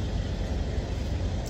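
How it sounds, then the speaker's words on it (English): A low, steady rumble of idling trucks at the Iowa 80 truck stop fills the air, continuous and moderately distant, with no voices. "Outside, got all the trucks running."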